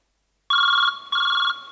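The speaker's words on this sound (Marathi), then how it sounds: "माझ्या नवऱ्याचा फोन येतोय." A telephone ringing with an electronic bell tone, two rings in quick succession after silence, loud and close, with no voices over it.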